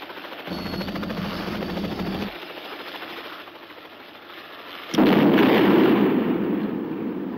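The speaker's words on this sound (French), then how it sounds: "quoique la scène où il fait exploser l'hélicoptère du docteur Beckman et du professeur Markovitz me fait mentir." A helicopter explodes in a James Bond film scene: rotor-like thrumming and a steady whooshing roar, then a sudden loud blast near the end that settles into a sustained rumbling burn.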